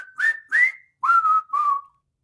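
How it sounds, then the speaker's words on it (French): A person whistles four short, clear notes, the first two rising and the last two held lower, close and alone with brief gaps between them. "Un petit sifflement en terminant?"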